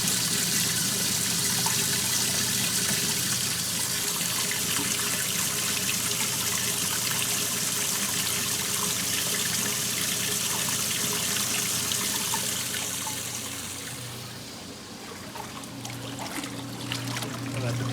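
Water rushes steadily out of a plumbing line being unwinterized for the season, a loud, continuous splashy flow that eases slightly near the end.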